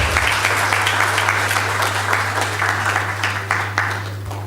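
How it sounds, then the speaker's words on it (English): Audience applause for a speaker at an international gender equality conference, steady crowd clapping close to the microphone, with a constant low electrical hum underneath and no talk. "A round of applause for her."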